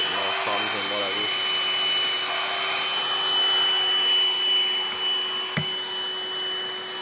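Hoover Blade cordless vacuum cleaner with crevice tool running steadily under a desk, a close, continuous whine with a brief voice near the start.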